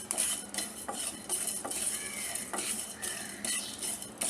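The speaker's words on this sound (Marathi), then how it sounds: "दालचिनी टाकल्यानंतर आपण हे जिरं टाकायचं आहे, आणि हे आपल्याला चांगलं भाजायचं आहे सर्व" Cloves, cinnamon and cumin dry-roasting in a pan, with repeated metal scraping and stirring clinks in an irregular rhythm and a faint rustle of the spices, close up with no voices.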